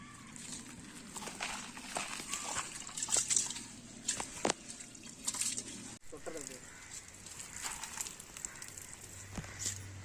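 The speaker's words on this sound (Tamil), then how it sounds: "சோறு வடிக்க அரிசியை நல்லா கழுவிக்கலாம் ஃப்ரெஷ்ஷா." Rice being washed in water for cooking in a village setting, soft sloshing and trickling splashes, quiet and intermittent, with a person talking over it.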